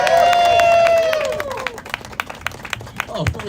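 A crowd at an outdoor political protest gives scattered, fading applause and cheers up close, one whoop rising early as the clapping thins out over a few seconds.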